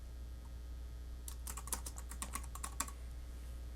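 A quick flurry of keystrokes on a computer keyboard as an appointment name is typed into a calendar. The taps are soft and close over a steady low hum in a quiet room.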